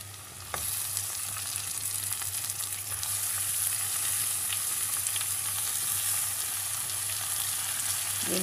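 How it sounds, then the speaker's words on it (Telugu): Goat head meat hits a hot pan and fries in a steady, close sizzle after a brief initial thump, with faint stirring scrapes and a low hum beneath, no voices. "దీంట్లో మనం ఈ తలకాయ మాంసం వేసేస్తున్నాను"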